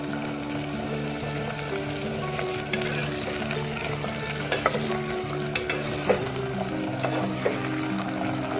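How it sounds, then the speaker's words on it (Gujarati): Mixed vegetables stirred in a hot pan over a tempering of whole spices, mustard, fenugreek and cumin seeds: a continuous close sizzle and hiss with a few sharp scrapes and clicks of the spoon. "આ રીતે આ રીતે એને હલાવી નાખવાનું છે બધું"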